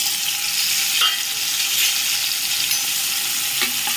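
Peas stirred into a potato samosa filling in a hot pan, a loud, constant close sizzle with occasional soft scraping of the spoon.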